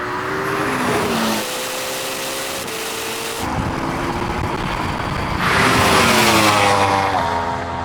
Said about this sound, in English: look at that Porsche go!